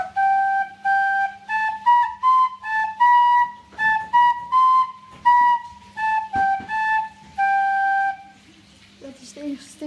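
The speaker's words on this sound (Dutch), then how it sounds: "En nou mogen jullie raden welk liedje hij gaat fluiten." Someone whistles a melody, clear pitched notes in short phrases with brief pauses between them, close by, ending with a few faint sounds.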